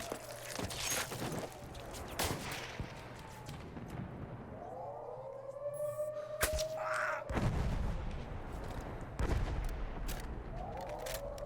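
Battlefield 1 gunfire cracks out in scattered, irregular shots and bursts with occasional heavier booms, close and fairly loud over steady background noise across the whole stretch.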